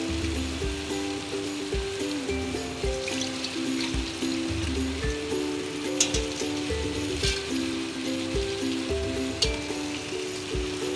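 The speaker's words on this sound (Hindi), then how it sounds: "मैं चावलों में अलग से पानी नहीं यूज़ करूँगी, पहले यखनी डाल के देखूँगी" Beef stock is poured onto soaked basmati rice for pulao, giving a steady continuous trickling and splashing of liquid close by, with a low constant hum underneath.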